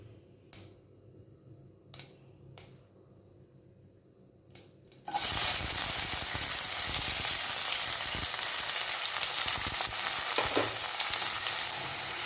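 Mustard seeds crackle and pop in hot oil with a few sharp isolated snaps, then onion and salt drop in and a loud, steady sizzle takes over and holds to the end.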